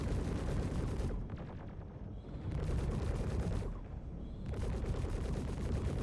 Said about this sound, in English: the bottom turret is shooting me